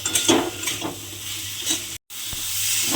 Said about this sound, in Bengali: এবারে আলুটা দিয়ে মশলার সঙ্গে খুব ভালোভাবে একটু কষিয়ে নিতে হবে